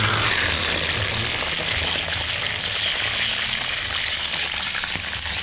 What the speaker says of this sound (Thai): เดี๋ยวก็ถึงตาที่เราจะเอารถด่วนลงไปทอดแล้วนะครับ